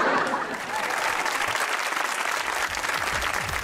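A studio audience at a Pakistani comedy talk show breaks into sustained, dense applause, loud and steady for several seconds with crowd noise mixed in.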